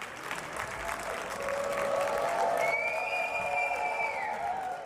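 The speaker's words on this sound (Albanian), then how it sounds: "Me vërshëllima dhe duartrokitje është pritur kryeministri izraelit Benjamin Netanyahu" A large crowd in the UN General Assembly hall greets Israeli Prime Minister Benjamin Netanyahu with sustained applause, while shrill whistles rise over the clapping in the second half.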